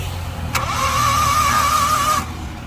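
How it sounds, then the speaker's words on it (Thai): A Honda engine with a broken timing belt cranks steadily for under two seconds with a whining starter drone, then stops without the engine firing up. "อ่าลองสตาร์ทดู มีเสียงนะครับแต่สตาร์ททำงาน อีกทีนึง"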